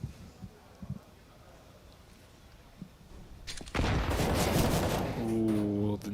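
Counter-Strike match audio: sparse distant single shots and small thumps, then a sudden loud burst of rapid gunfire and a grenade blast that keeps going to the end, with a rising tonal game cue near the close.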